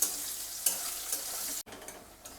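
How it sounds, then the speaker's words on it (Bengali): Two large chopped onions frying in a pan for a Bengali-style masala chicken give a soft, steady sizzle with light stirring scrapes, briefly cut off and then resuming quieter, with no talk. "পেঁয়াজটাকে আমি 2 মিনিট ধরে একটু লাল করে ভেজে নেব।"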